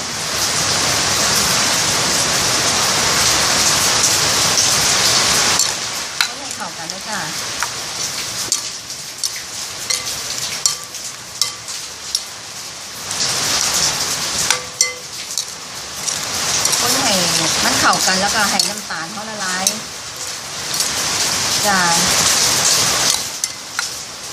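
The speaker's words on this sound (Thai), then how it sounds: "เสียงฝนจะหึมหึม" Heavy rain pours continuously, a dense loud hiss of drops pattering on surfaces throughout, with occasional quieter gaps and faint voices underneath.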